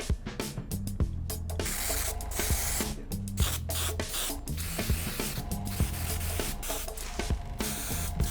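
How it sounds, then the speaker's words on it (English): An aerosol can sprays paint onto custom Vans Era shoes in a series of short, loud, close hissing bursts with brief gaps between them, and a steady rhythmic tapping runs underneath. "We're gonna spray it from the top portion and down to create a cool gradient effect"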